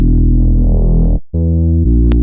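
A deep sub bass synthesized in Serum 2 with a touch of drive distortion sounds as loud sustained buzzing tones, cut briefly by a short gap before a second held note that shifts pitch midway.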